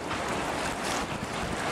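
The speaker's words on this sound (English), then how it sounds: "Sorry if it's really windy." Strong wind buffeting the microphone beside open water, a loud continuous rush with waves faintly underneath and no voices.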